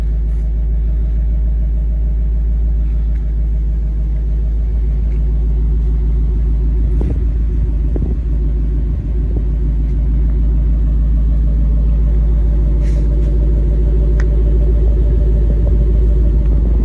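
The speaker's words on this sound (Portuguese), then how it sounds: "Então tem que abrir a garagem e ligar o carro." A car engine idles after a cold start on a sunny, near-10-degree day, having sat parked in a garage for two months, holding a deep, steady, loud rumble with a few faint knocks and no talk.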